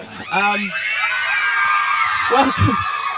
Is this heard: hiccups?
no